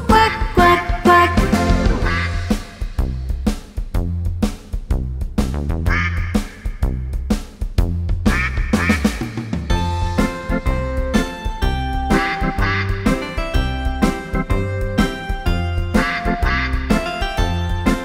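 Singing voices imitate duck quacks throughout a lively Spanish children's song about six little ducks, with repeated rhythmic quack sounds over bright, loud instrumental music.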